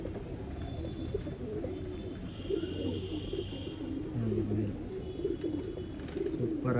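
Pigeons cooing in a loft, soft repeated low coos from several birds close by, with a few higher chirps and faint background voices.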